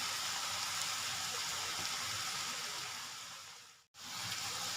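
Mushrooms frying in hot oil with ginger and garlic for a Coimbatore roadside kalaan give a steady, close sizzle that continues with no talk, briefly cutting out near the end before resuming.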